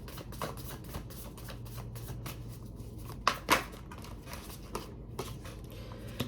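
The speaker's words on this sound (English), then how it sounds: "I'm going to pull 3 cards for outcome energies." Tarot cards being shuffled and drawn by hand, giving soft papery flicks and taps scattered through a quiet room, with two sharper slaps near the middle, close and faint.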